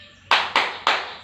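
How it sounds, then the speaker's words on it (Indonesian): Three sharp, evenly spaced group claps in a classroom, a brief rhythmic spirit clap by pupils, loud and close with nothing else over it. "ayo mana tepuk semangatnya dulu ayo"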